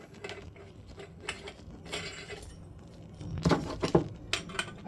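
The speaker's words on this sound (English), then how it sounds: "we're going to put these floor flanges on the bottom" Malleable iron floor flanges being fitted onto the bottom of a baritone saxophone lamp pipe, with repeated metallic clinks and jangles, sharper and louder toward the end.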